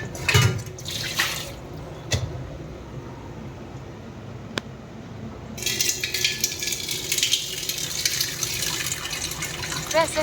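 Water running and splashing into a cooking pot before rice is cooked, a steady pour that stops and later resumes more strongly, with someone talking nearby.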